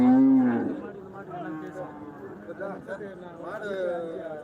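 Cattle at a livestock market in Krishnagiri, with a loud, close cow moo at the start and then market bustle and people talking.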